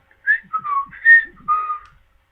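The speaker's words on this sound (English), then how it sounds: "I hear a zookeeper whistling in my ear." Someone whistles a short tune, several clear pitched notes rising and falling in quick succession, close and alone against silence.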